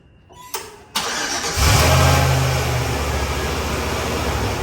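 A dead-battery truck engine cranks briefly after a click and then catches, jump-started with a YESPER 4120A jump pack, settling into a loud, steady idle close by with no talk.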